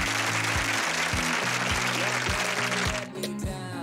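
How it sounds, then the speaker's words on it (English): Applause fills the room as a dense, steady wash of clapping that thins out near the end, heard under a repeating low musical backing. "Got you a little applause."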